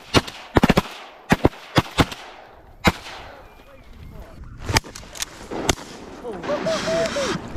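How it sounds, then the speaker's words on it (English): Shotgun blasts at waterfowl during a hunt: a quick burst of sharp, loud reports, then a few spaced single shots, with people talking and calling out between and after them. "Oh, good shot, Gray."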